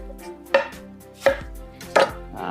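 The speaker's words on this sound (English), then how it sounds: "for our risotto, we will also cut up an onion here." Knife chopping an onion for risotto, three distinct, well-spaced cuts thudding onto a board, close and clear with a soft rustle between strokes.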